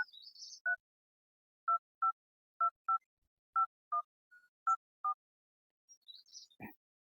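A telephone keypad is dialed to call someone: about a dozen short, clean touch-tone beeps in an uneven rhythm, followed by a faint rustle and a soft thump in an otherwise quiet room.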